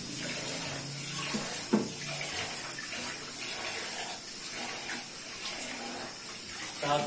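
A pressure cooker vents its steam in a home kitchen while arbi gosht cooks, a continuous hissing rush with faint clatter and small bumps underneath, steady and fairly close, with no talking.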